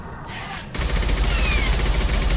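Rapid, dense bursts of enemy gunfire crackle in a Mass Effect video game, starting after a short quieter lead-in and continuing loudly to the end.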